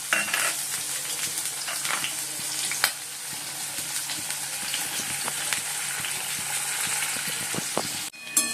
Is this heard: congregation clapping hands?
no